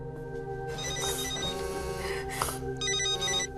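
A telephone rings with a steady electronic ringtone over sustained background music, its tones repeating through the whole stretch at moderate level with no voices.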